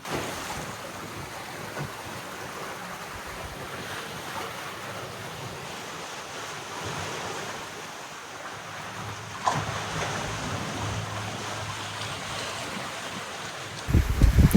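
A sailboat running almost dead downwind at about 5 knots in the eastern Caribbean, with a steady wash of waves and wind along the hull, a brief splash near the middle and a louder thump of water at the end; no talking.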